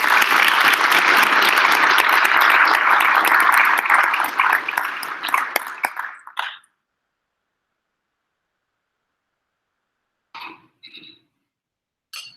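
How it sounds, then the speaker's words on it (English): Loud applause from the audience at the opening plenary of a winter scientific meeting, steady for about six seconds before tapering off, followed by silence and a few faint voices. "Give a round of applause."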